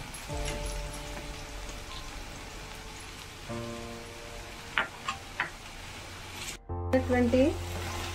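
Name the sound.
mango pieces heating in pan before adding jaggery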